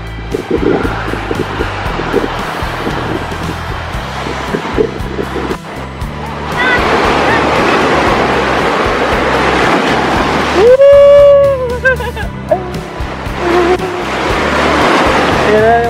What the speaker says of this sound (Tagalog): Kaso ang lakas talaga ng alon